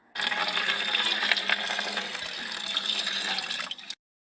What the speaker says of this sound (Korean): 마고야니는 낄낄낄 웃으며 콸콸콸 오줌을 누웠어